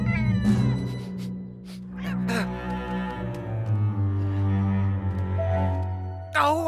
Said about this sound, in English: Oh, I really don't like cats!